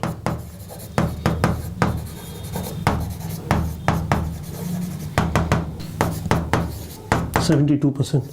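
A pen scratches across paper in a classroom-style study session, close and fairly loud in short bursts of strokes and taps, with a steady background hum.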